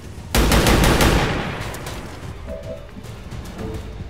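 A loud burst of rapid automatic gunfire in XCOM 2 that fades into a reverberant tail, followed by faint game sounds.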